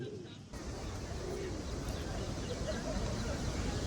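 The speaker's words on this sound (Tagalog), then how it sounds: "First time ko makakita ng ganito kadaming kalapati." A large flock of pigeons gathered in a city square in Barcelona, a steady wash of cooing and fluttering spread through busy ambient noise, with voices of passers-by mixed in throughout.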